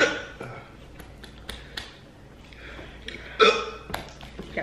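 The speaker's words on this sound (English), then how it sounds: "Got the hiccups already." Person hiccuping while eating blazing hot buffalo wings, a few sharp abrupt hiccups with clicks and rustling, close and fairly loud, no speech.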